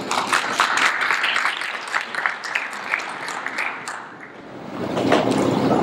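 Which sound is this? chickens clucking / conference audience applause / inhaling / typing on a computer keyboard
conference audience applause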